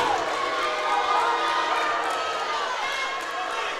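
Crowd noise at a high school basketball area playoff game, a steady wash of loud reaction and murmur from the stands after a foul call, with no clear break, plus shoe squeaks and movement on the court.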